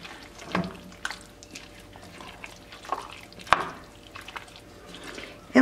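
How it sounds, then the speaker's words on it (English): Liquid drained from a can of corn and a can of peas, heard as a quiet run of separate drips and small splashes with brief clicks, no talking. "So I drain the can of corn, a can of peas."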